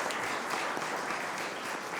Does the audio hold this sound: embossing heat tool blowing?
no